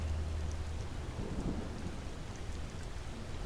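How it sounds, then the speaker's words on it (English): Steady rain falls with a soft, dense hiss and a low rumble like distant thunder underneath, continuous and even throughout with no voices. "listening to the sound of the rain"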